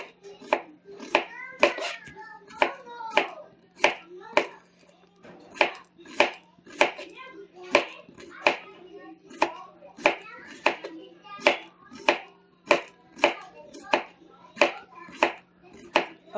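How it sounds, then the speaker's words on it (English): A knife slices zucchini thin on a cutting board in a steady run of crisp, close chops, roughly one or two per second, with quiet background hum and no talking. "I'm able to get these pretty thin with this knife"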